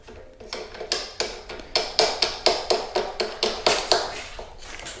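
Screws being driven into the arms of a Go Go folding device, heard as a close, regular run of about a dozen sharp ratcheting clicks that quicken and then fade.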